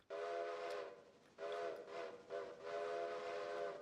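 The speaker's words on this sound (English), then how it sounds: "I think it's time to give you a proper whistle." A steam locomotive whistle in a railroad simulation game sounds in three long tonal blasts separated by short gaps, clear and fairly loud against a quiet background.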